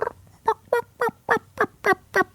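A soft imitated turkey call, mimicking turkeys walking through leaves, gives eight short, evenly spaced yelps, close and clear with no talking.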